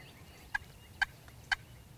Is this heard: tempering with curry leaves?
no